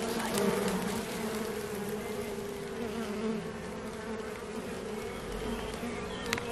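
A dense, steady drone of many honey bees buzzing up close, a low humming swarm that stays constant throughout.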